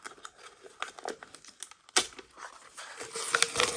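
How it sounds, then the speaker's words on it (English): Crinkly wrapping is peeled and torn off a frosted Libby glass cup fresh from a tumbler press, close and irregular rustling that grows busier and louder toward the end. "Okay, so let's get this unwrapped and see what it looks like"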